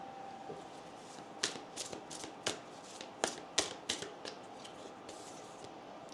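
Oracle cards riffled and shuffled during a tarot reading, a close run of crisp papery flicks and snaps that cluster into bursts, heard alone with no talking.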